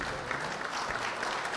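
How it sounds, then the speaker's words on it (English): Applause from the audience at the Miss Samoa Pageant 2021 as an honored guest is recognized, a brief, even wash of many hands clapping at moderate loudness. "Everyone give a hand of applause for Mr."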